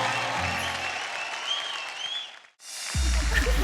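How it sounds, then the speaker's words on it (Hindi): Loud audience applause fills a dance competition stage show, dense clapping that fades into a brief silence around the middle before a louder burst of applause and crowd noise returns. "जोरदार तालियां हो जाए"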